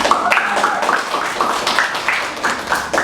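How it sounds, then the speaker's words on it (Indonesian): Classroom students clapping together for a group, a fairly close burst of brisk, uneven hand claps that stays steady throughout. "tepuk tangan dulu untuk kelompok ini"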